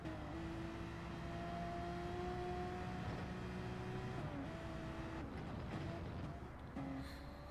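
Gran Turismo 7 race cars, including a GT-R and a Porsche in a GR3 online race, drone steadily with engine tones shifting as they gear up, under faint background commentary.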